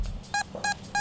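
A metal detector's signal tone: short electronic beeps pulse in a quick, regular rhythm, three clear tones with softer blips between, close and fairly quiet over faint background noise.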